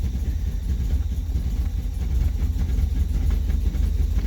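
A cold Austin Healey 3000 engine idling rough just after a cold start, a close, steady low rumble with an uneven, shaky pulse, as if close to stalling.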